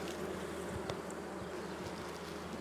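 Steady, dense buzzing of many honeybees close by at a hive, a continuous drone with no pauses and no voices.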